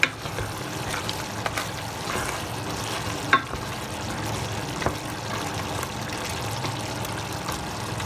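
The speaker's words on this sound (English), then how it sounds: "And just keep stirring it around." Jamaican curry goat meat gets stirred around in a pot, with a soft, steady sizzle and bubbling plus occasional scrapes and light knocks of the spoon, close by and with no talking.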